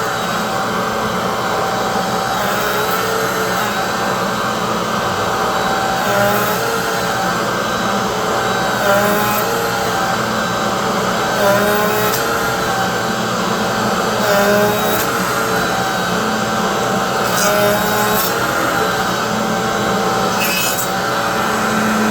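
A router riding on a budget router sled cuts across a wood surface, giving a steady, loud motor whine with grinding cut noise that swells and eases in regular passes, with no talking.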